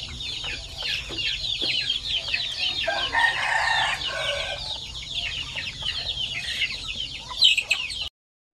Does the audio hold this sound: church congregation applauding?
no